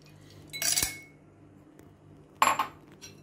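Ice cubes drop into two drinking glasses, making two separate bright clinks about two seconds apart, each a short rattle against the glass in an otherwise quiet kitchen.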